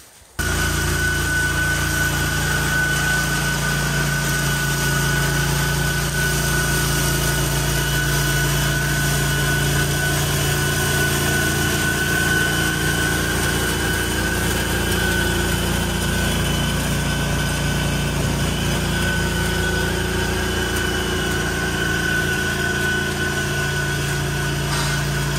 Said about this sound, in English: Let's rip in with the flail.